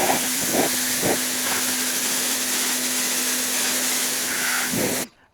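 An AIVOLT electric pressure washer sprays a dirty barn door in a loud, continuous hiss with a steady motor hum beneath and a few brief bursts. The spray stops abruptly at the end.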